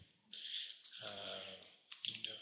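Typing on a computer keyboard while entering a command, a quick run of crisp clicks in two short bursts, close and fairly quiet, with no talking.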